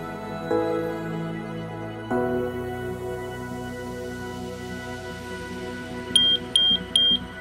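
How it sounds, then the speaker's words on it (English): Three sharp, high-pitched beeps at the end, evenly spaced and loud, after a stretch of quieter clunks and background hum. "10 years is pretty long as well for a smoke alarm"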